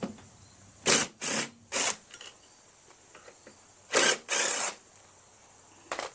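A ratchet works two 5/16 screws on a Craftsman lawn mower with a Briggs & Stratton Quantum engine, giving short bursts of close, bright clicking in two separated groups with quiet pauses between.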